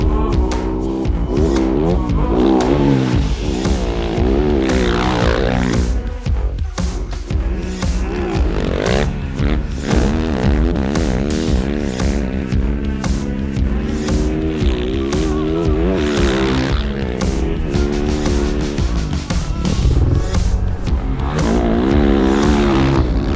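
A 2016 450 rally replica motorcycle engine revs hard and continuously, pitch rising and falling through repeated accelerations, loud and close throughout.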